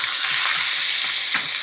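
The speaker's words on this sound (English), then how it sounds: "right into this grease, we're going to add this 1 cup of onions" One cup of onions frying in hot grease while chicken carbonara is cooked, a loud, continuous close-up sizzle with faint stirring scrapes underneath.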